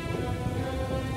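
Heavy rain pours in a Hindi cartoon, a dense, constant hiss of falling water with a low rumbling undertone, loud and steady through the brief moment with no voices.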